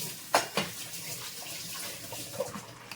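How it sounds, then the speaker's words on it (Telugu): Milk poured into sweet pongal cooking in a pot, a soft close splashy pour with a couple of sharp clinks at the start, fading into a quiet stir. "నేనైతే ఇంకొంచెం పాలు పోస్తున్నాను."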